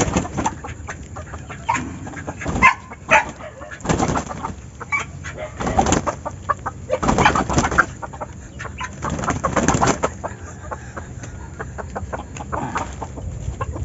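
A red junglefowl rooster crows and clucks among other birds, several calls overlapping at close range with a busy, noisy outdoor background.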